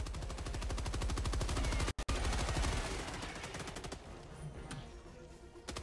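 Rapid automatic gunfire from the video game Helldivers 2, a loud, dense stream of shots that stops briefly, then continues more thinly in the background.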